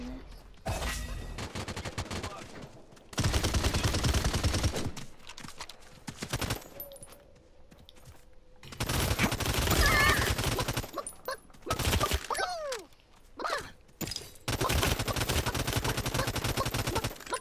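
Submachine-gun fire in the Realm Royale battle game comes in loud, sustained bursts separated by short pauses, alongside other in-game effects and faint talk.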